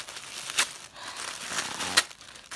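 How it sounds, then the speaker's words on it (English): Tape rips and crinkles off packaging during a Halloween unboxing, a close papery tearing with two sharper pulls amid soft rustling. "Sorry, I just have to rip it."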